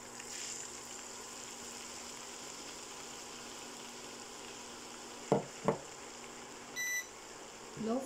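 Chili and garlic toasting in a pan over low flame for homemade chili garlic sauce, a soft steady sizzle throughout with a couple of sharp stirring scrapes near the end and a brief beep.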